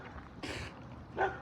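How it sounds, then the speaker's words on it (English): A dog barks twice at a middle distance, one broad bark followed by a sharper, more tonal one about a second later, over a low background hum with no talk. "the dog is barking at me"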